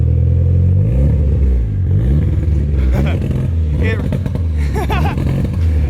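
A Mitsubishi Evo III running on ethanol fuel revs through a new carbon fiber exhaust: a loud, deep engine note rising and falling in several short blips, close by, with some rattly clatter.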